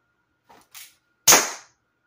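Three sharp shots from a CO2 Colt 45 air pistol fired at candy corn targets, two quick light pops followed by a louder, crisper crack, each short and close with silence between.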